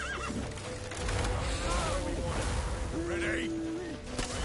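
A horse neighs and whinnies in The Witcher 3 video game, a loud whinny rising over game ambience, wind and distant rumble, with a brief pitched cry and hoofbeat-like thuds around it.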